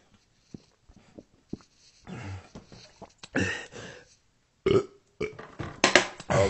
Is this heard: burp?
yes